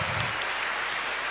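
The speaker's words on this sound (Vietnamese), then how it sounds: "xin mọi người cho em tràng pháo tay ạ" Brief burst of congregation applause inside a church during a youth Mass, a dense hiss of many hands clapping at once, fairly loud and close.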